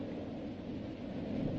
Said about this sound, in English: There's that thunder sound.